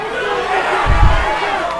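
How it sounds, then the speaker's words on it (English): Crowd noise at a kickboxing fight between Brandon Maynard and Adam Gould, a steady roar of spectators with a brief swell of cheering near the middle. "The crowd is really into this one."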